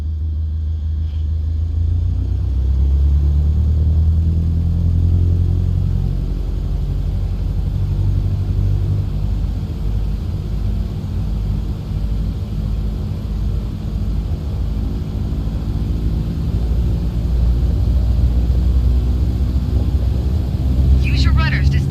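A light training aircraft's engine runs at full power for takeoff in Microsoft Flight Simulator, a steady, loud, low droning rumble that holds throughout while a voice talks over it.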